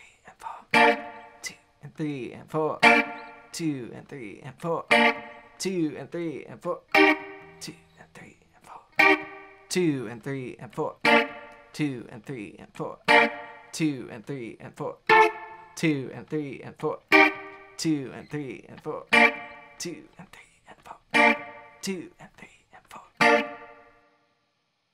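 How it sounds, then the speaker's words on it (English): Electric guitar playing clipped Green Onions chord stabs through a 12-bar blues progression, bright percussive hits in a steady rhythm, with a soft voice counting the beat underneath throughout. "So that's gonna sound like this when I put it into that 12 bar blues progression."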